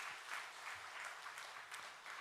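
A church congregation at a Korean Sunday worship service claps together in welcome for visiting missionaries, a steady burst of moderate applause filling the room.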